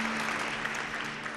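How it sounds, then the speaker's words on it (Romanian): A seated audience claps steadily through the whole short stretch, a dense, even wash of applause at a music-education event about chamber music. "Aplauze!"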